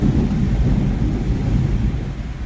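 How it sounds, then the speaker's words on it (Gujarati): Heavy rain with rumbling thunder pours down over a village in Bhiloda, a steady loud low roar of downpour and thunder filling the whole stretch with no voices. "એટલો બધો વરસાદ છે ગામડે"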